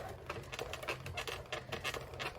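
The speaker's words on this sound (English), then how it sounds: "And then you're just gonna run it through the machine." A Sizzix Big Shot die-cutting machine is cranked with an embossing folder, giving faint, quick, rhythmic clicking and ratcheting that repeats steadily and close by, with no talk.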